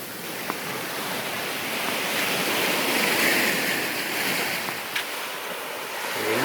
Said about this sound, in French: Du coup, la mer, elle est belle.